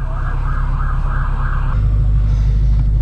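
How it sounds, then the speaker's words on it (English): An ambulance siren wails in repeated rising and falling cycles over a loud engine drone, then cuts off as the engine note deepens. "Let this ambulance go by."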